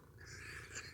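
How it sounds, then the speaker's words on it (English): A house cat purrs close by in a quiet indoor room, a soft continuous rumbling drone that swells slightly and never breaks over its short length. "You probably hear her purring through the whole thing."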